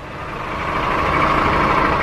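A vehicle engine idles close by, a steady low rumble that holds evenly and grows slightly louder over the short stretch, with no voices.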